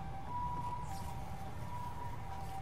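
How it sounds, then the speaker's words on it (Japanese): An ambulance siren passes in the video game Silent Hill Downpour, a steady wailing tone sounding moderately distant over a rumbling background with no talk. "救急車が超通ってる。"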